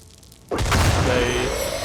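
Aliens firing on a tank in the strategy game Xenonauts: a sudden loud blast lands at about the half-second mark, then heavy booming rumble lingers under a faint whine, no talk.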